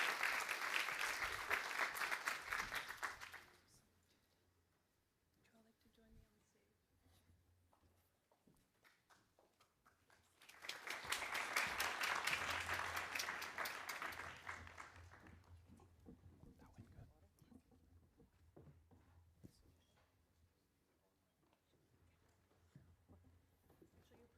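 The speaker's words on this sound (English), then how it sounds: "Please, a round of applause" Applause at a youth summit on jobs, greeting the session moderator: a burst of clapping from a large audience lasting about four seconds, then quiet, then a second strong wave of clapping around ten to fifteen seconds that fades out.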